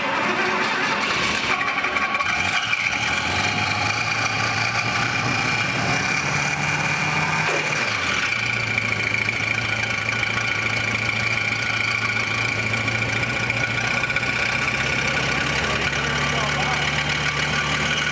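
A fuel-injected 1947 Ford V8 idles steadily up close, its low, even rumble holding at a constant pace with no revving throughout.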